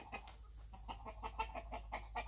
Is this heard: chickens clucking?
yes